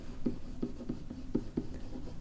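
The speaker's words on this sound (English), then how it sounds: "actually I'll write it up here." Marker or chalk strokes on a classroom board while working a rational-function graphing problem, a series of six or seven short scratchy taps at a steady pace, close and fairly quiet, with no talking.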